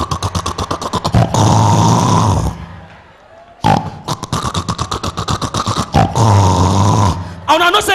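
A voice imitates his mother snoring like a generator, with loud, rapid, rhythmic rattling bursts in two long runs separated by a short pause, at a lively birthday celebration.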